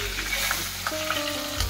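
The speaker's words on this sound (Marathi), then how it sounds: "कांदा, हिंग टाकल्यावर कढीपत्ता टाकतो डाळीत" Curry leaves hitting hot oil with onion and asafoetida for a dal tempering, giving a loud close sizzle and spatter with some stirring scrapes over a brief stretch.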